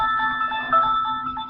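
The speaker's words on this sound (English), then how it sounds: "Hold on, let me shut that phone up." A phone ringtone plays loudly and close, a steady tonal electronic melody with sustained notes running through the short stretch with no talking.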